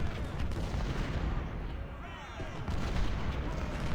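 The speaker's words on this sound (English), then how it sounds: "James, our cannon are doing great too." Cannon artillery fire in the video game Ultimate General: Civil War, a dense rumble of distant booms and scattered battlefield gunfire running continuously at moderate volume.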